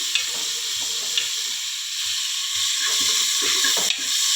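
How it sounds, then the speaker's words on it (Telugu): Onion, green chillies and eggplant frying in a pan, a constant bright sizzle with occasional stirring scrapes, close and without talk. "మంచిగా వేగాలి."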